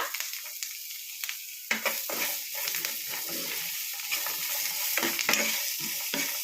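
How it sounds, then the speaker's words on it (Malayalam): Onion and green chilli sizzle in a hot pan as a spoon scrapes and stirs them in short, irregular strokes, close up and with no voices. "പിന്നെ ഇച്ചിരി ഉള്ളിയും പച്ചമുളകും എല്ലാം കൂടെ വഴറ്റിയെടുക്കുക."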